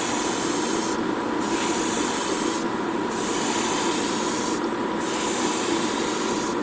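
An airbrush hisses steadily at about 20 psi, spraying metallic paint onto a wing of a 1/100 MG Freedom Gundam model kit, in a broad continuous spray with brief pauses, close and fairly loud.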